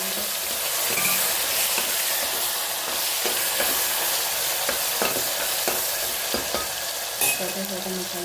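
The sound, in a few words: tomatoes frying and stirred in oil with mustard seeds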